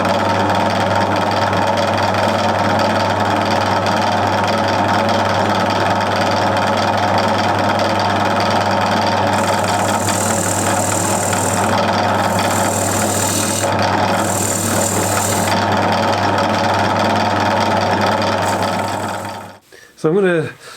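A wood lathe turning a bowl whirs steadily while a tool cuts a groove into the spinning piece with rough scraping bursts, then the motor winds down and stops.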